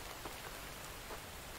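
Rain falling in the survival video game The Infected, a steady soft hiss of drops on surfaces with a few faint brighter patters, continuous and even throughout.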